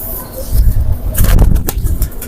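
Pigeons flying, the grey and red Lal Pari kabootar, flap their wings in bursts of fluttering with a hint of cooing, close and fairly loud against a steady low rumble.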